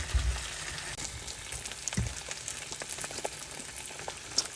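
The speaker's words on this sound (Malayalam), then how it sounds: "ആ ചെറിയ നമുക്ക് ഈ ബട്ടറിനകത്ത് കിടന്ന് ജസ്റ്റ് ഒന്ന് ഫ്രൈ ആവണം കേട്ടോ." Butter sizzling in a pan while frying a healthy breakfast, a steady close crackle with scattered small pops and faint stirring noises, no voices.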